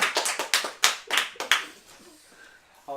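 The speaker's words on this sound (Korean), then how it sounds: "박수 한번 보내드리고 싶습니다." Church congregation clapping during a sermon, a burst of uneven hand claps that fades out within a couple of seconds, followed by near silence and a brief tone at the end.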